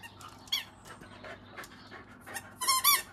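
Dogs running around, with sharp squeaks and yelps and short panting bursts that grow louder and busier toward the end.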